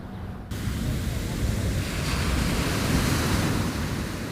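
Ocean surf crashes continuously onto a shore where sand extraction has eroded the coast, a loud, dense roar of breaking waves with wind rushing across the microphone.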